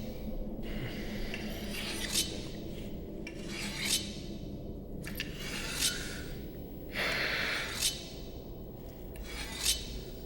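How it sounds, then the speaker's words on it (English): A knife drawn repeatedly across a sharpening tool, rasping strokes at an irregular pace, each lasting about a second, close and fairly quiet with breathing in between. "Stop fucking sharpening that knife."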